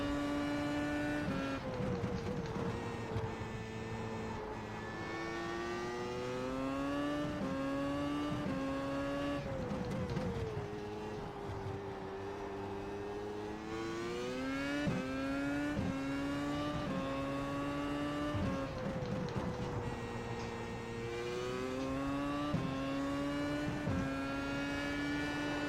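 Grand Prix race car in the iRacing simulator, its engine screaming high and continuous, rising through the gears and dropping on downshifts over and over through a practice lap, loud and close with no talking.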